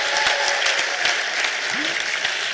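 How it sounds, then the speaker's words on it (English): An audience at a Nigerian Immigration Service 60th anniversary ceremony gives a steady round of applause, with sharp individual claps standing out and a voice briefly heard underneath. "A very big round of applause,"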